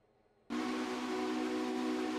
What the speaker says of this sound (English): last but not least, we got a WM 3 chime